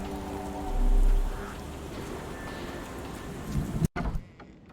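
Steady, dense rain in the video game Sherlock Holmes: The Awakened hisses loudly with a low rumble underneath, then briefly cuts out near the end before resuming more faintly.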